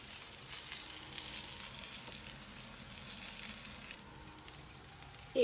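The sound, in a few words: frying taro (kochurmukhi) in oil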